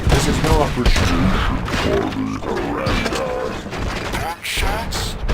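Gunfire bursts and mechanical clanks from the RoboCop: Rogue City video game, layered with dense game effects and a voice talking over the action.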